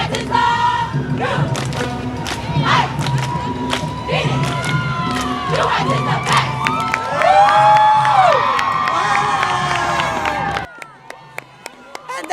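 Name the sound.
parade crowd cheering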